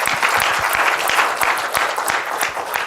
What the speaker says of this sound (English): A clap for that.